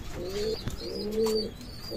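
Pakistani bloodline Teddy pigeons cooing, two or three soft, low, rolling coos close by against a faint background hiss, with no talk.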